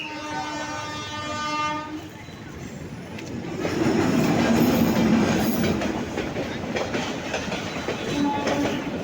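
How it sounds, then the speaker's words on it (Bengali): A train sounding its horn and then rumbling past nearby, with a loud rising roar and clickety-clack of wagons on the rails, and the horn blaring again near the end. "দাঁড়াইলাম যে ট্রেন যাওয়া দেখবো"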